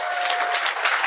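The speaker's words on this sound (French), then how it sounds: "J'aimerais ça qu'on l'applaudisse." A studio audience claps for a guest on a talk show. The steady, full applause runs for about a second, with a faint high tone running underneath.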